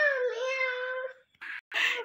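A child imitates a cat meowing with one long, drawn-out vocal meow, then two short, breathier bursts after a brief pause.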